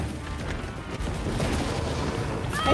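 Gunfire in Resident Evil set in Raccoon City: a dense, continuous burst of shots and booms that grows slightly louder toward the end, with no talk.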